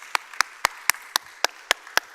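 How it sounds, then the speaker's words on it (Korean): Sharp, isolated hand claps ring out in a church service, about eight evenly spaced strikes in a slow steady rhythm with quiet between each, sounding like only a few hands rather than a full room. "이 시간에 우리 하나님께 감사 영광의 큰 박수를 드렸으면 좋겠습니다."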